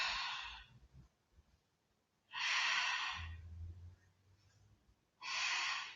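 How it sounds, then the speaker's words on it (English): Slow, deep breaths in a Pilates class, three long airy exhales spaced a couple of seconds apart, soft and close, with no talking. "Deep breathing."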